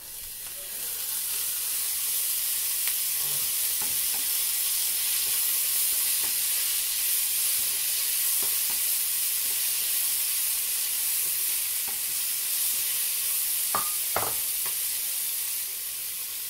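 Sprouted mung beans fry with onion in a pan for a steady, even hiss of sizzling that goes on the whole time, broken only by occasional faint taps and clicks.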